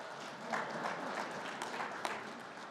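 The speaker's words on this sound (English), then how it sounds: "Doug, I got a little round of applause there" A small crowd claps in a brief, moderate round of applause, scattered sharp claps standing out over the steady patter.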